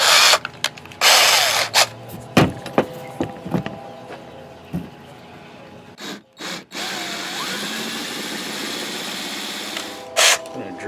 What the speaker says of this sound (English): So let's bore it first.